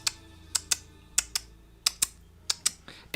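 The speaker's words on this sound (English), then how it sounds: "by pulling on the buzzard heads of the smaller statues around it, you start to hear these clicking noises" Buzzard heads on small statues in the Nancy Drew game Legend of the Crystal Skull give sharp, crisp clicks, about a dozen in irregular pairs and singles, close and clear against a quiet background.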